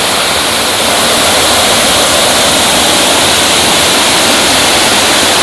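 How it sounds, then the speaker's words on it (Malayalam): Water from Kachithodu Dam flows over fields and cascades like a waterfall, a loud, steady, unbroken roar filling the whole stretch with no other sounds. "ഡാമിൽ നിന്ന് വരുന്ന വെള്ളം പാടം മുകളിൽ കൂടെ ഒലിച്ചിട്ട് വെള്ളച്ചാട്ടത്തിൻ്റെ പോലെ രൂപം പ്രാപിച്ചിട്ട് താഴേക്ക് ഒഴുകി പോണതാണ്"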